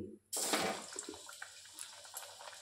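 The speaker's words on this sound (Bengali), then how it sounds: "এটা আমার তেলটা গরম হয়ে গেছে, এবার আমি কাবাবগুলো এক একে ছেড়ে দিচ্ছি।" Jackfruit kebabs slide into hot oil for deep frying, setting off a sudden loud sizzling hiss after a brief hush, which then settles into softer bubbling crackle.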